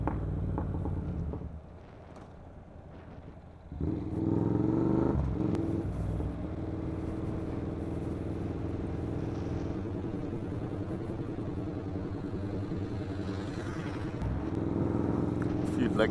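A car's exhaust rumbles loudly and steadily through most of the stretch, dipping briefly early on before surging back with revving, as passing traffic noise blends underneath and people talk over it.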